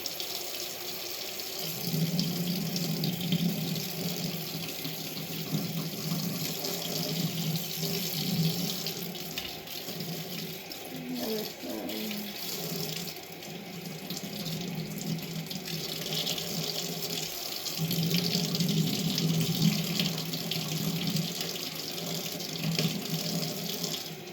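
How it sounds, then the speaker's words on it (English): Tap water runs steadily into a sink while hands are scrubbed with soap, working over the nails and cuticles. It is a continuous close splashing rush with small shifts in flow across the whole stretch, and no one talks. "I'm going to do that to the nails and the cuticles under that running water with that soap provided"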